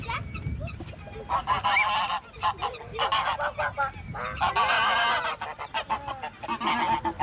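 Chickens cluck, squawk and honk continuously at close range, a busy flock calling over a noisy background.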